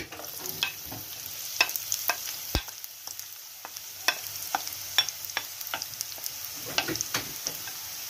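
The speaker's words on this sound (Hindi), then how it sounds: "उसी ऑयल में मैं प्याज ऐड कर दूंगी।" Onions sizzling in oil left from frying eggplant, with a steady close frying hiss and scattered sharp clicks and taps of a utensil against the pan, including one loud knock partway through.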